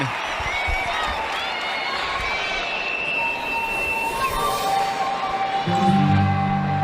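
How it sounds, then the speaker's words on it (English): Arena crowd at a UCLA versus Utah women's college gymnastics meet cheering loudly and steadily, with whoops and applause swelling near the end, dense and continuous throughout. "Knew it was big from the crowd reaction"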